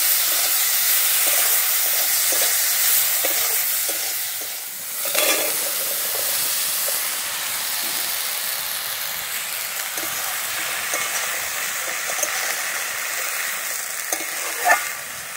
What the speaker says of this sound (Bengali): যে সামলাটা রান্না করব তার চিংড়ি মাছটা ভেজে নিচ্ছি।